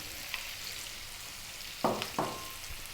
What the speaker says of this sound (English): We're going to drop in our potatoes.